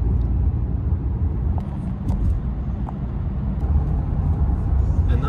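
A car drives along a road back toward Canada, its steady low engine and tire rumble filling the cabin at close range, with faint small knocks and rattles over the continuous drone.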